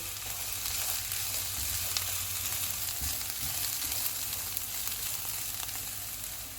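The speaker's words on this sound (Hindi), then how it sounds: "एक मिनट के बाद गाजर डालेंगे, इनको 2 मिनट तक भूनेंगे।" Carrots and mixed vegetables fry in a hot pan at medium-high heat with a dense, steady sizzle that fills the whole stretch, close and continuous, with occasional stirring scrapes.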